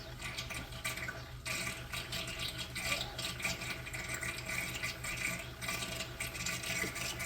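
Water gurgles and rushes steadily as it siphons through a reef tank overflow down into the sump, a close, continuous, fairly quiet flow.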